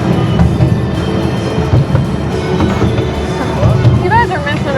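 Amusement park train ride at Hersheypark during the Christmas season, a rumbling rolling clatter with brief wheel squeals, heard close under people chatting.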